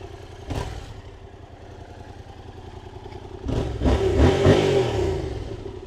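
A Yamaha MT-07 motorcycle with about 17,787 km on it idles, gives a brief blip of the throttle, then revs louder in a longer burst before settling back, close by.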